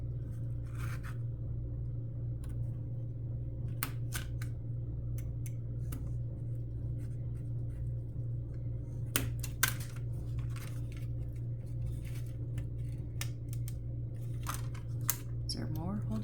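Plastic tabs on a model kit are snipped with sharp, irregular clicks and cuts over a steady low hum, with occasional rustling of parts throughout.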